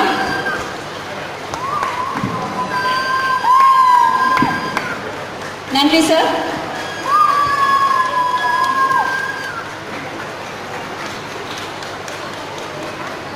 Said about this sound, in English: Come on, cheer them up.